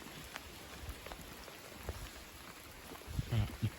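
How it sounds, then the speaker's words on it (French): Rain falls faintly and steadily during a cold squall line over cornfields, a soft diffuse patter with a few louder drops and thumps near the end. "Voilà, il pleut."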